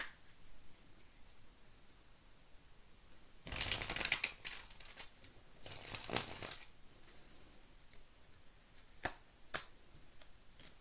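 Tarot cards shuffled close by in two short bursts of rapid riffling and flicking, with a few sharp isolated card snaps afterward against a faint, quiet background and no speech.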